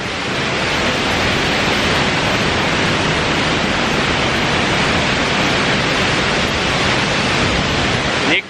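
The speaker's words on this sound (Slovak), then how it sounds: "Nachádzame sa pri nádhernom vodopáde Kozjak." Kozjak waterfall in Slovenia roars as a loud, steady rush of falling water. The broad wash of sound holds without a break and no voices can be heard over it.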